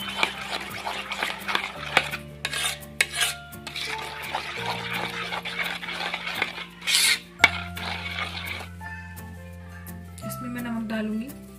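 A spoon scrapes and clinks against a pan as red chilli and turmeric are mixed in, with irregular metallic knocks and rubbing, alongside someone talking and some background hum.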